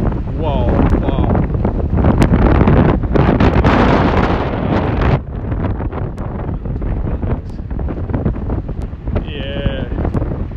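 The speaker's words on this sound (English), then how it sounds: "It's very rainy and windy." Strong gusty wind buffets the microphone beside the River Thames near Waterloo and the London Eye in London, with rain and roaring rushes that ease after a few seconds; people talk intermittently underneath.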